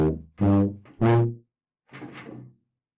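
Tuba phrase from the Thomas the Tank Engine theme, a few low, buzzy sustained notes with brief gaps and a softer final note, close and solo without speech.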